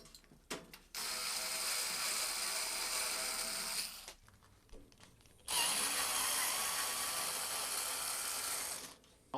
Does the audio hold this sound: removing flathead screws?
yes